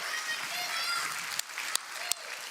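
Applause for a child's performance on a Hindi TV show stage, a steady wash of clapping with a few sharp claps standing out near the end, over faint background voices.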